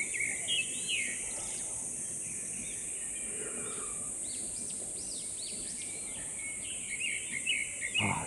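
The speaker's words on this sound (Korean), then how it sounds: "아주 새소리 이외에는 정숙하게 아무 소리도 안 들립니다." Small birds chirping and calling repeatedly at a distance along a quiet zigzag deck trail on Bongwhasan mountain in Korea, faint and sparse over soft ambient hiss with insects.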